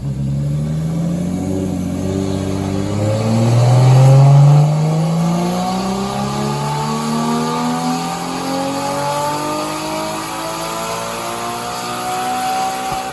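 A Nissan R32 drift car with an RB25DET Neo engine roars on a dyno, rising steadily through the revs in one long loud pull that peaks early and then holds a high, strained drone.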